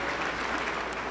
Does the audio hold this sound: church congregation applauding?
yes